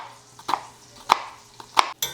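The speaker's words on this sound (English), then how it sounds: "I'm going to cut up 1 yellow onion" A knife chops through a yellow onion on a cutting board in a home kitchen, giving three sharp, evenly spaced thuds close by while bacon renders in a pot for loaded potato soup.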